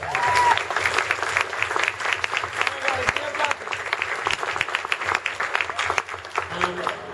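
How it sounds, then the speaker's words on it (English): Audience at a Comic Con 2014 panel applauds the director, a dense, steady wash of many hands clapping throughout, with some crowd voices mixed in. "Give him a round of applause down here."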